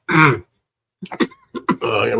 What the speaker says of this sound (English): I'm coughing my brains out